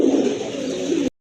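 A pure white Sirajee pigeon coos close by in a low, throaty, continuous rolling call that stops abruptly.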